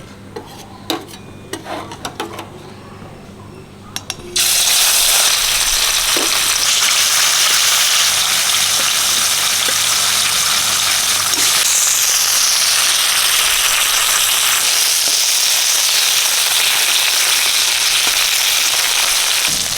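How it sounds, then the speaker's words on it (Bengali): Fish frying in hot oil for a Bengali katla fish curry, a loud, steady sizzle that bursts in after a few quiet seconds of faint clatter and then holds dense and close throughout, with no talking. "তেল দিয়ে দিলাম গরম হয়ে মাছটা দিয়ে"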